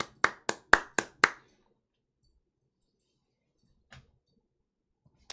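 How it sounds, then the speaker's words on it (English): One person clapping hands, about five quick sharp claps close by, followed by quiet with a couple of faint knocks. "I'm gonna give myself applause for this one."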